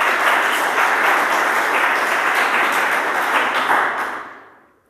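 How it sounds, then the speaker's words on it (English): Audience applause for a presenter at a lightning talk session of a software conference, a dense, steady wash of many hands clapping that holds evenly for about four seconds before fading out. "Give her a big applause."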